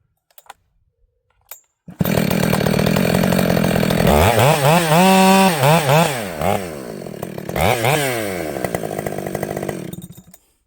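Jonsered 930 chainsaw cutting wood: the engine starts loud and close, holds a steady high rev, then bogs and swings in pitch as it works through the cut, running continuously for about eight seconds.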